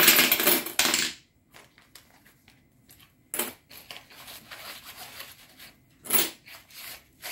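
Coins handled and pulled from a paper budget envelope, with three short bursts of clinking and rustling separated by quieter shuffling, close up and with no talk.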